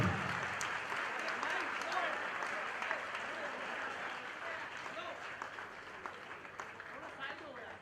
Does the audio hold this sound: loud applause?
yes